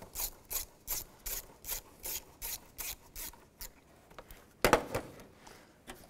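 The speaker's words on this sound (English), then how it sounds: "loosen up the worm clamp right here. You can use a straight blade screwdriver or an 8mm socket." Worm clamp on an intake hose of a 2005-2010 Chevrolet Cobalt being loosened with a screwdriver or 8mm socket: about a dozen evenly spaced ratcheting scrapes, close up, followed by a louder clunk, with no talking.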